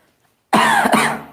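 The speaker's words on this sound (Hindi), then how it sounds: "चलो थोड़ी खांसी को आराम मिलेगा" One loud, close cough bursts out of silence during an online class and rasps on for nearly a second before fading.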